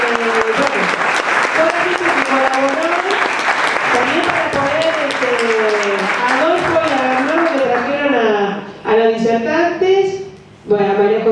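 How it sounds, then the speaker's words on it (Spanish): Loud, sustained applause from an audience at a training course on biosolarization, steady clapping under a voice talking over it, dropping out briefly near the end. "yo les pido un gran aplauso para mi compañero de trabajo"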